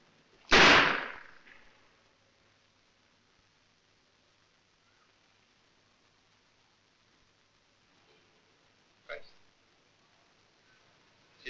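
A single loud pistol shot cracks sharply near the start and decays quickly, followed by a long quiet stretch with a faint later knock and a brief sound at the end; people speak around it.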